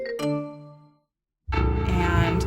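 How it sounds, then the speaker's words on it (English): A telephone rings with a two-tone ding-dong chime that decays into silence, then a louder burst of dense sound follows after a short pause. "The phone rang."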